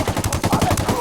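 Rapid, evenly spaced shots ring out in a loud burst during a Ghost Recon Wildlands firefight against a sniper, a quick rhythmic rattle of automatic fire.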